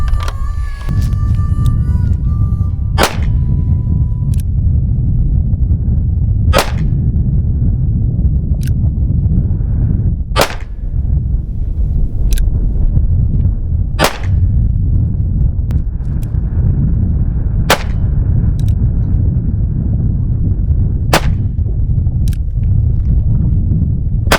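Sharp gunshots from a small pocket revolver fire one at a time at steady intervals, seven or eight in all, over a constant low outdoor rumble, during a chronograph test.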